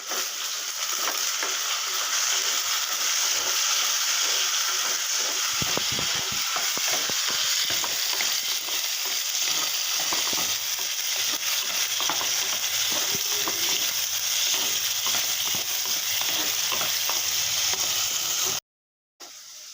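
Whole tomatoes frying and being stirred in a pan over a medium flame, a steady close sizzle with irregular scraping stir strokes throughout, no talking, cutting out just before the end.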